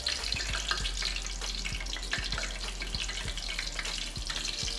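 Hot frying grease sizzling after a small splash of water, ready for hot wings: a steady bright crackling hiss with scattered sharp pops and low thumps, close and continuous, with no talking.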